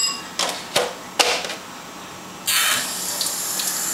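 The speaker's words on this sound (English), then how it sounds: "I'm gonna throw a little water in there." Water splashes into a preheated pan for frying queso blanco in a Dominican breakfast, a sudden loud hissing rush that follows a few sharp clatters.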